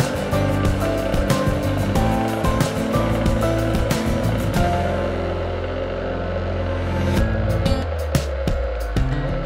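An electric juicer processing melon, a continuous loud motor hum with a grinding, crunching edge and frequent sharp clatters as pieces hit the blades, running steadily throughout.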